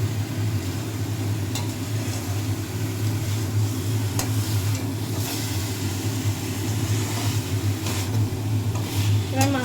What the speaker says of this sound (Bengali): এবার মশলাটা আর মাছটা একেবারে মাখামাখি করে দেবো।